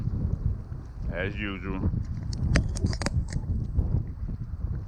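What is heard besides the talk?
wind blowing outdoors while fishing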